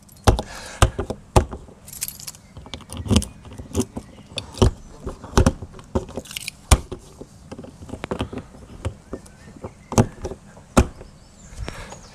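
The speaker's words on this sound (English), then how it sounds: "the way to shut them is you must lock them first and push it to like so" Keys jangle and clack while an exterior locker on an Autotrail Frontier motorhome is locked and pushed shut, a steady series of sharp metallic clicks and taps close by with no talk.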